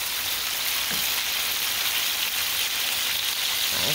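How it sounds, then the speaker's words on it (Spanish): Pork chops frying in a pan, a dense steady sizzle and crackle filling the whole stretch, close and even, with no talk. "Así estamos friendo la carnita de puerco."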